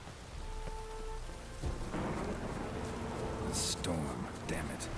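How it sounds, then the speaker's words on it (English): Steady rain hisses with low thunder rumbling underneath in The Witcher 3, loud and close, with a few sharper crackles near the end. "Storm, damn it."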